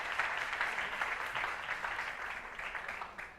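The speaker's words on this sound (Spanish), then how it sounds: "Damos un aplauso aquí a las criaturas." Faint, distant audience applause, an even patter of many hands that tapers off near the end.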